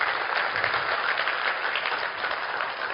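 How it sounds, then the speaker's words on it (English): An audience at a leadership training event applauds, with dense, steady clapping that fills the room at an even level from start to finish. "give him a big applause"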